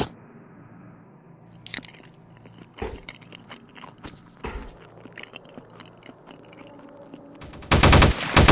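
A minigun in Stalker Narodnaya Solyanka rips out a dense, loud burst of rapid fire near the end, after scattered quieter thumps and clicks.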